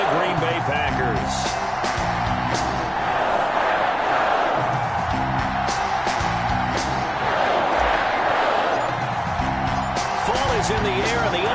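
A steady roar from the stadium crowd at an NFL video-game matchup between the Atlanta Falcons and the Green Bay Packers. The crowd swells and surges continuously beneath a commentator talking throughout.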